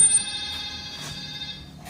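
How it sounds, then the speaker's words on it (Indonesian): A telephone rings in a high, steady electronic tone inside a laboratory, moderately loud, with faint taps and shuffles around it. "Gue denger jelas banget ada suara telepon teman-teman."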